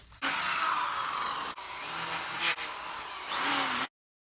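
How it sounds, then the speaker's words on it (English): An electric flap sander takes burn marks off a carved wooden soldier memorial, a steady whirring hum in three bursts with short dips between, close and alone, then it stops dead. "You just barely want to hit it with the flap sander here"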